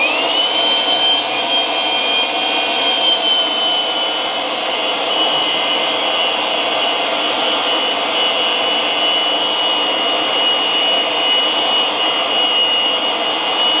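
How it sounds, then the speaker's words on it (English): A Bluerock PTM 300 pipe threading machine runs while cutting threads on pipe, its loud, steady motor whine and high grinding hum holding level from start to end with no pauses. "So we're going to go ahead and press this switch and start threading."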